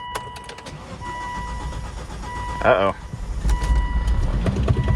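A Volvo V70R engine cranks for a while and then catches and starts, a loud burst of mechanical noise under steady background hum, with a person speaking briefly.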